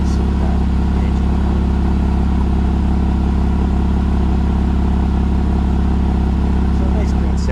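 A 2006 Porsche Boxster S with a 3.2-liter engine and big oval center-mounted exhaust pipe, idling loud and close in a steady, even low rumble with no clear revs.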